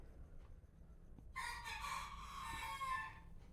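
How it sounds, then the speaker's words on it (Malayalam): A rooster crows once, a loud drawn-out call lasting about two seconds that follows a quiet stretch of faint room noise, with no talk. "കോഴി ഒരു തരത്തിൽ സമ്മതിക്കത്തില്ല."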